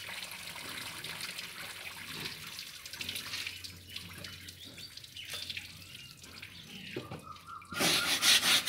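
Wet charpai being scrubbed with a brush and detergent in a Punjab village, a steady soft wet swishing under running water, with a louder splashing surge near the end.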